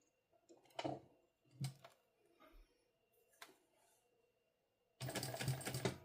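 A sewing machine stitches a sling bag with both threads feeding, a few scattered clicks and taps giving way to a steady close whir in the final second.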